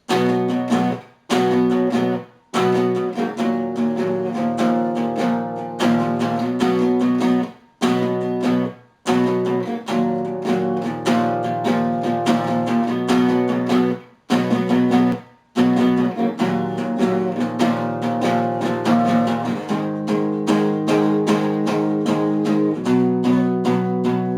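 A song's chorus on guitar: full, loud strummed chords in repeated phrases, broken by several brief stops. It plays on its own for the whole stretch with no talking.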